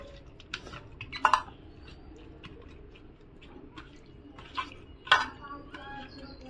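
Chicken being mixed with lemon, salt, turmeric and chilli in a bowl, with a few sharp clinks of a utensil against the dish and soft stirring sounds, someone talking over it.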